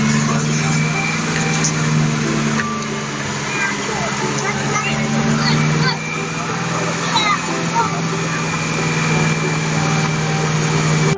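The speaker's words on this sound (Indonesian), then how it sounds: "Ini namanya truk mulen" A concrete mixer truck engine runs as a steady, even drone with a strong low hum, apparently from a toy or small vehicle, heard close and constant for about eleven seconds, with a voice faintly present.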